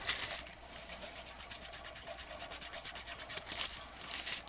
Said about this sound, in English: Kind of rubbing it around where the tear marks are, and just to kind of bring it all together here.